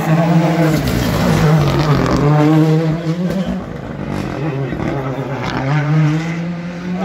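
A Skoda Fabia rally car idles and revs at the start line of the Rallye d'Antibes shakedown stage, its engine loud and close with a wavering pitch and a rough, buzzing tone.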